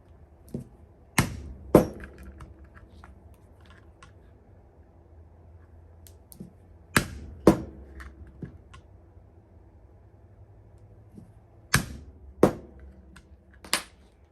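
Sharp, percussive strikes come in tight pairs and clusters as a hole punch is hammered through leather for a wallet. The impacts are loud and close, separated by quiet pauses.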